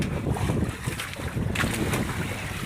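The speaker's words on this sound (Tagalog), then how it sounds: "Ang daming bangka ng dadaan." Wooden outrigger boats passing close along a shoreline by the sea, a steady low motor drone with wind buffeting the microphone and lapping water throughout.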